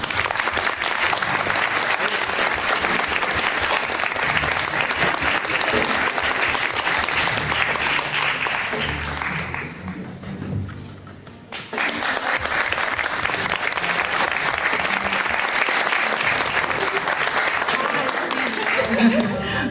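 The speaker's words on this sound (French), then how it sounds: "On l'accueille sur scène par vos applaudissements." A gala audience at a beauty pageant claps loudly and steadily to welcome a guest on stage, applause briefly dipping midway before swelling again and continuing to the end.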